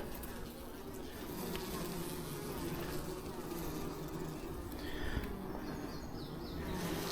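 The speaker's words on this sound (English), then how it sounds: "Now there's a lot of bees in this hive" Honeybees in a hive with no brood hum close by, a steady low drone of many wings with faint high chirps threaded through, quiet and continuous throughout.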